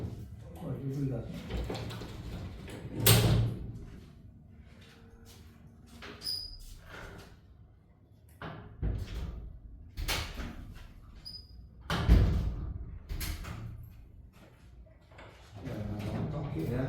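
A door opens and closes in a room during a group mediumship study session, giving dull knocking thumps near 3 and 12 seconds among ongoing people talking.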